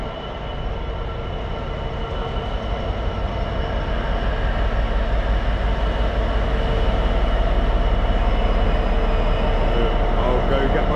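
A diesel train runs steadily along the railway on a test run from Bletchley to Peak Forest, a loud continuous rumble and wheel roar that builds slightly throughout, heard close by.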